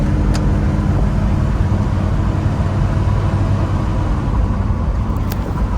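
The V8 engine of a 1972 Oldsmobile Cutlass 442 clone with a four-barrel carburetor runs at a steady, deep, loud rumble throughout, close by and without speech.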